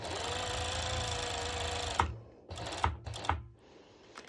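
Sewing machine stitching elastic onto a one-shoulder top: a steady, close whirring run for two seconds, then a few short bursts of stitching separated by pauses.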